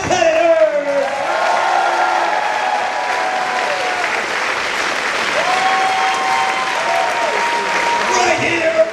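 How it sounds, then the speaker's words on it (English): A wrestling event crowd at a King of Trios show in Eastern Pennsylvania breaks into loud, sustained applause and cheering for six competitors, with scattered whoops, filling the whole stretch at close range. "how about a big round of applause for all 6 competitors?"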